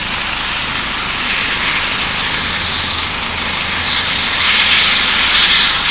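Helicopter landing for emergency patient transport, a loud, steady roar of rotor and turbine with broadband hiss and a low thrum that swells slightly toward the end.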